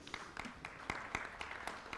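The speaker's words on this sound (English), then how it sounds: "A huge round of applause, ladies and gentlemen." Audience applause at a formal conference celebration, a steady wash of many hands clapping with scattered sharper claps, moderately faint and continuous throughout.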